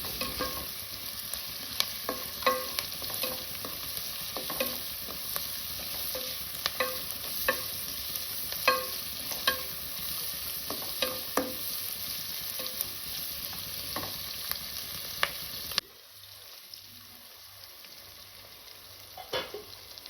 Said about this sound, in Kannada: ಆನಿಯನ್ ಫ್ರೈ ಆಗ್ತಿರುವಾಗ ಅದಕ್ಕೆ ಒಂದು ದೊಡ್ಡ ಹೆಚ್ಚಿದ ಕ್ಯಾಪ್ಸಿಕಮ್ನ ಸಹ ಅದಕ್ಕೆ ಹಾಕಿ ಚೆನ್ನಾಗಿ ಅದನ್ನು ಫ್ರೈ ಮಾಡಬೇಕು